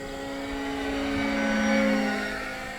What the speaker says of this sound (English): It sounds like 2 airplanes flying in tandem together.